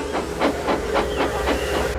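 The Flying Kipper steam train from Thomas & Friends hisses in rhythmic steam chuffs, about seven evenly spaced bursts over a steady rumble.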